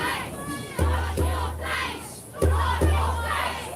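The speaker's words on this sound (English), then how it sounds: "feminists in the crowd chanting" A crowd at a protest vigil chants in loud rhythmic bursts, voices rising together in repeated shouted phrases with steady thumping beats underneath, heard near and energetic.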